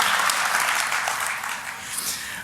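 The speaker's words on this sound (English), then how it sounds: "People are finally clapping for me" Conference audience clapping at a hacker convention's opening session, a dense, steady wash of applause filling the whole stretch at fairly high level, easing slightly toward the end.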